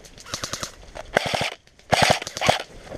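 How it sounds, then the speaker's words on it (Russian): Airsoft guns firing close by during an airsoft game: rapid bursts of sharp snapping shots in quick rhythmic strings, loud and near, with brief pauses between volleys and no talk. "ты слышал, как близко стреляют"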